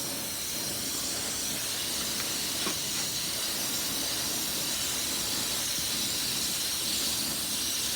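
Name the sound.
spray gun spraying white paint coat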